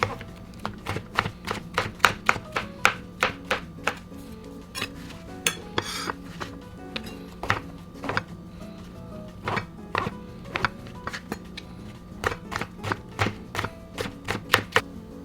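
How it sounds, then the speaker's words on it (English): Knife slicing eringi mushrooms on a cutting board, a steady run of crisp, close taps in quick groups with short pauses, no talking. "Trim the base of eringi mushroom. And slice them into small pieces, similar in size to the shiitake."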